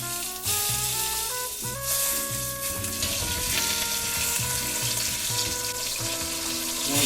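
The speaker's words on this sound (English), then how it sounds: "Once you finish searing the meat, you remove it" Osso buco veal shanks searing in a pan give off a steady, close sizzle that runs the whole time beneath prominent background music.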